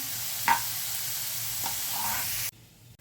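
Chopped onion sautéing in a pan until golden gives a steady broadband sizzle, with a few brief stirring scrapes cutting through before the sound drops away near the end.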